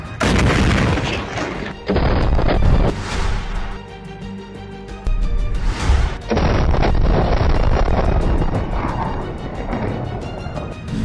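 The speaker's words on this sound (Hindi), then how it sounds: "जैसे ही एक रॉकेट टैंक पर लगता है उसमें जोरदार धमाका होता है" A rocket strikes a tank during fighting in Gaza's Rafah and Khan Yunis area, giving several loud, close, heavy booming blasts that rumble between bursts.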